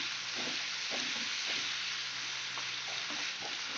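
Spices including tomato paste, cumin, ginger, coriander and chili powders fry in a pan for a Bengali curry, giving a steady, dense sizzle with soft, rhythmic stirring scrapes and no talking.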